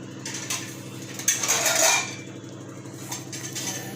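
A lid clatters onto a metal cooking pot of steaming pieces, one brief metallic clank and rattle amid faint kitchen clinks, with no talking.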